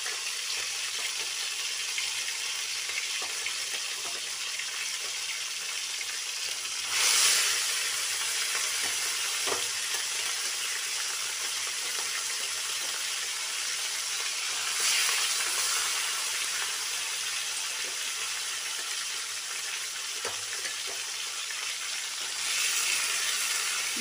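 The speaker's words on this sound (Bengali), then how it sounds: "এবার মাছগুলোকে আমি এক এক করে আবারও ভেজে নেব।" Pieces of rui fish frying in hot oil in a wok give a steady, loud sizzle that runs unbroken throughout, swelling into brief hissing surges now and then as the fish settles or is turned.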